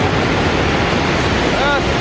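Roaring floodwater surges in a dense, unbroken wash during the Kedarnath flood disaster in the Uttarakhand mountains, loud and close with no pause.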